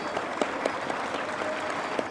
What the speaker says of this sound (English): Can we applaud all those volunteers,